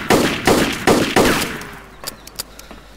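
Gunfire in the video game DayZ: four heavy bursts of shots in quick succession, loud and close, followed by a few sharper, fainter single cracks trailing off.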